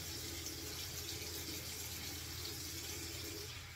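Tap water running steadily into a sink during handwashing, a quiet, even rushing stream with no breaks and no talking.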